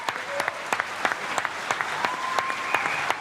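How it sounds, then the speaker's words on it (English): A crowd claps at an arrival, brisk overlapping hand claps at moderate distance, with faint voices and shouting mixed in. "some were clapping hands, some were shouting, some were running to take pictures"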